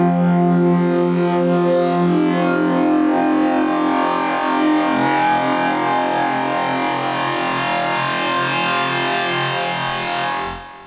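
A dense, sustained synth tone processed with a metallic, resonant modulation effect, shimmering and distorted, holding steady before cutting off near the end.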